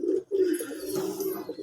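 Pigeons coo inside a loft where the birds nest. Low throaty coos roll on continuously, close by and fairly loud, with no talk in the moment.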